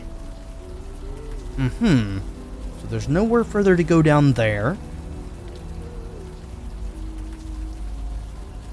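Steady rainfall in the game Unavowed patters continuously, with someone talking over it partway through before the rain carries on alone.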